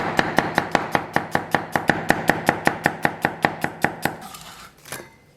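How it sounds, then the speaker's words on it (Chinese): Knife finely chopping an onion on a cutting board, a rapid steady run of about twenty crisp, close blade strikes that stops near the end, with no talking. "然后咱们把洋葱给它切碎。"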